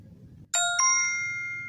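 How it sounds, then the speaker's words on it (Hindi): A bright electronic phone chime marks a completed payment transfer in a mobile app, two quick ascending tones that ring on and decay slowly, clear and alone over faint room noise. "और मुझे नोटिफिकेशन मिल गया कि जी पेमेंट ट्रांसफ़र हो चुकी है"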